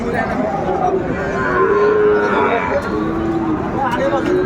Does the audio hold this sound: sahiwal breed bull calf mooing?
yes